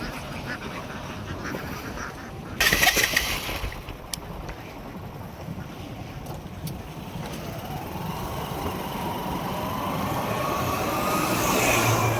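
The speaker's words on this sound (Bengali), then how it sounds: "এদিকে এক পাল হাঁস" Ducks quack among a steady outdoor rumble, with a louder burst of sound early on and a low engine-like drone throughout.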